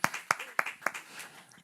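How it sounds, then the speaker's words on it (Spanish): A small seminar audience gives brief applause, a few sharp claps followed by a faint scattered patter, heard quietly in a room. "Un aplauso."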